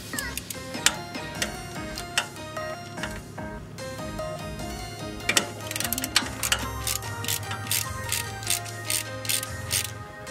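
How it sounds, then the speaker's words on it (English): A Nissan 300ZX flywheel turned by hand tooth by tooth, close and fairly quiet, giving a steady series of ratcheting metallic clicks and gear ticks. "what we're doing right now is spinning the flywheel tooth by tooth"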